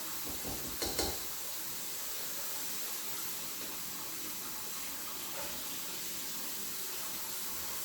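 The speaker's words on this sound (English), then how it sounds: "I'm turning on my hot water on my tap" Hot water runs steadily from a kitchen tap in a constant hissing stream, preceded by a couple of faint clicks and knocks at the start.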